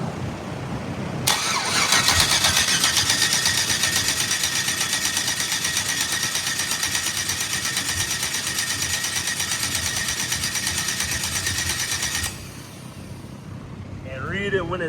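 A 5.3 LS V8 cranks over for a compression check, a steady, loud whirring starter drone that runs continuously for about eleven seconds, then cuts off abruptly into quieter background noise.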